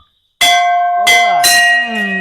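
A bell rings out three times, loud and close, each strike leaving a long shimmering metallic tone that overlaps the next.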